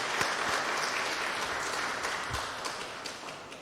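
Congregation applauding during a Sunday worship service in a church, steady dense clapping throughout at moderate level, filling the room without pause.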